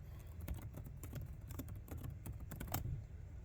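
Online search typed on a computer keyboard, a quiet run of quick, uneven key clicks close by with a soft room hum and no voices.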